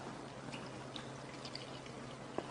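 Coke poured from a freshly opened bottle into a glass: a faint, steady liquid pour with soft fizzing, alone and close.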